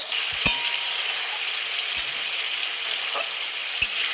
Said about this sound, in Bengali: আরও কিছুক্ষণ ভাজবো